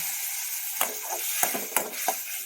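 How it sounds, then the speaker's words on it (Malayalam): Steady high sizzling from a pan of simmering ambazhanga (hog plum) pickle, broken by a few sharp bursts of hissing splutter as boiling water is poured in, with faint clinks of a utensil. "ഇച്ചിരി ചൂടുവെള്ളം എടുത്ത് ഒഴിക്കട്ടെ"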